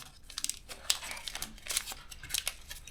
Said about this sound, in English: So we want to make a mountain fold here.